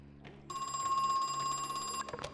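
A telephone rings in a video game, one bright electronic ring tone lasting about a second and a half, close and clear over a quiet room, then breaking off.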